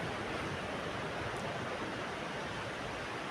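Sea waves at Palande beach wash in a steady, dense roar of surf, continuous and fairly loud throughout with no voices.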